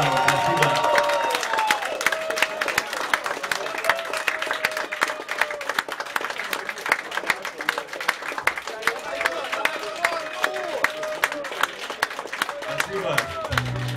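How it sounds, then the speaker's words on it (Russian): An audience at a club concert bursts into sustained applause with scattered cheering, dense clapping that carries on steadily and fairly loud, with a voice speaking briefly over it at the start and near the end. "Ваши аплодисменты."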